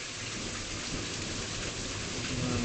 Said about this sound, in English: We have a lot of rain, good lightning strikes, weak thunder tonight